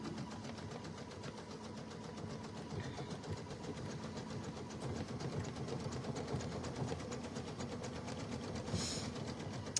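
An embroidery sewing machine stitches steadily, its fast, even mechanical whir running throughout at moderate loudness, with a brief higher-pitched whine near the end.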